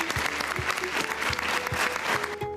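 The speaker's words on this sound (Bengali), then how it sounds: "তার জন্য একবার জোরে হাততালি হয়ে যাক।" An audience at a stage cultural programme applauds a child's recitation, steady dense clapping from a crowd, moderately loud, fading out at the end.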